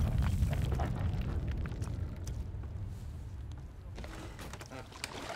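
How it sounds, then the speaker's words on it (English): A deep, rumbling explosion in the video game The Thaumaturge rolls on heavily and slowly fades over several seconds, with a few faint clicks near the end. "it seems like an explosion"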